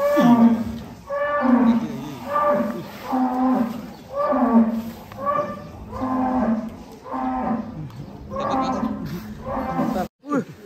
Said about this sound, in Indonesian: Kita akan keluarkan sapi monster Belgian Blue ini guys, 1 ton up.